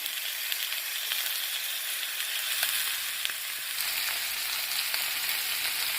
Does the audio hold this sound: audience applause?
no